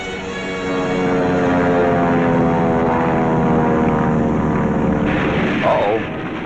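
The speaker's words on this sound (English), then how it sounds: "an enemy search plane and are after her. She's a big bird. A 20-ton, four-motored Kawanishi seaplane" The loud, droning hum of a propeller aircraft's engines fills the scene, roaring steadily close by and shifting slightly near the end. The aircraft is a 20-ton, four-engine Kawanishi seaplane, a WWII Japanese search plane.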